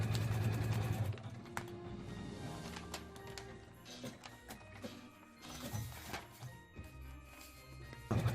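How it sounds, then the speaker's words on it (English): A sewing machine stitches contrasting thread around the perimeter of a quilt block template, its close, steady mechanical whir and rapid needle clatter running in bursts that pause and restart, with no voices. "I stitch along the perimeter of the template with this contrasting thread."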